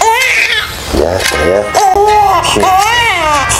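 An infant wails in a video drama, rising and falling cries close to the microphone, with a faint voice briefly speaking near the start.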